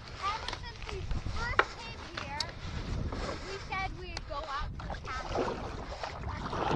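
Paddling a kayak across Lochindorb, a windy Highland loch, with water chop and splashes under steady conversation between an adult and a child, wind buffeting throughout.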